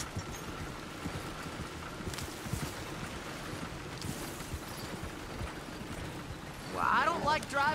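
A horse walks in Red Dead Redemption 2, soft rhythmic hoof clops under wind and game ambience, with someone talking throughout.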